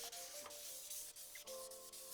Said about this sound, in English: I can also feel it as I'm sanding.